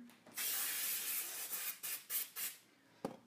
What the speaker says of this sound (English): And I'm going to spray the back of this just over here